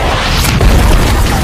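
A loud, dense boom from a bomb rigged to a gun exploding in an action film, a sustained rumbling blast filling the whole moment at high volume.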